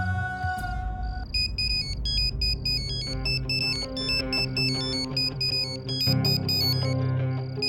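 A melodic electronic phone ringtone plays loud and close, bright repeating tones cycling through a tune over a low hum, with no one speaking.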